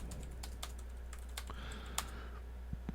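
Fingers type on the keyboard of an Astrohaus Freewrite Traveler, a portable writing device with low-travel, butterfly-style keys, producing quiet, close, irregular clicks in short bursts over a steady low hum.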